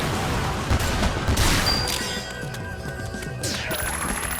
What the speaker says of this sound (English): Chainsaw blast.